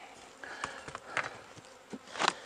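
Honey bees buzz in short close passes and bursts at an opened hive during an end-of-season check of nuc and package colonies, with no voices.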